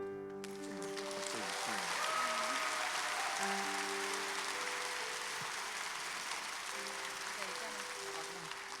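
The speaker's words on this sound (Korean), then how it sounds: "수고해주신 연사들에게 다시 한번 큰 박수 보내주시기 바랍니다" Audience applause fills a Korean church's combined Sunday memorial service for the June 25 war anniversary. Steady, sustained clapping runs throughout, with sustained musical tones underneath.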